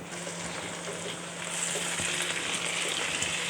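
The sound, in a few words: chicken drumsticks searing in ghee with onions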